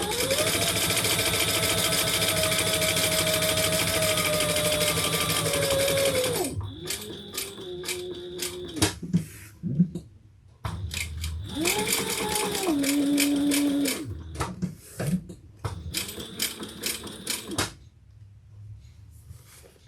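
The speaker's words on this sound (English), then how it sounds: "we're going to stitch around the outside. Just like any other overlay." Sewing machine stitching around the outside of a bag overlay, running in two long steady bursts with changing motor pitch, separated by short stops and small clicks as the fabric is turned.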